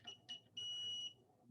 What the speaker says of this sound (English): The lock is going to beep.